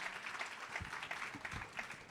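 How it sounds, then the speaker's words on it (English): A brief burst of audience applause at an inclusion and peace event, scattered hand claps heard faintly and at a distance for a couple of seconds. "Round of applause for her"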